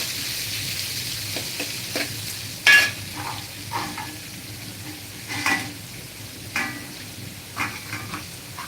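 Chopped onion and green chillies fry in hot oil in a pan, giving a loud, steady sizzle close by, broken by repeated scraping stirs and a few metallic clinks of a utensil against the pan.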